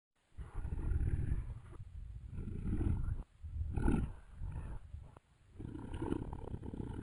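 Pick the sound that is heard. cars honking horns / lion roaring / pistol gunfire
lion roaring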